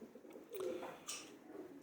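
Pigeons coo softly nearby, a short low call or two rising over faint background ambience.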